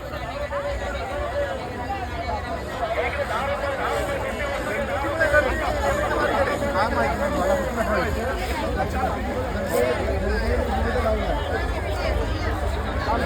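Dense crowd chatter and babble fill a packed market during the Ganpati festival in Nashik, a steady, close wall of many overlapping voices with constant bustle throughout.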